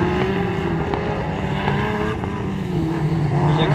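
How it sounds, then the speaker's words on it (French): A 1993 Audi Quattro rallycross car on track at Dreux, its engine roaring loud and continuous, revving and shifting pitch throughout. "Jacques Fombonne aussi qui est en piste avec sa Audi Quattro L2 1993."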